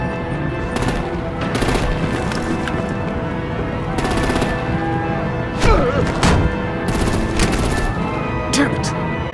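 Bursts of gunfire and artillery from the Telltale Batman: The Enemy Within video game, with sharp repeated shots and heavier thuds over a constant busy backdrop of game music and ambience.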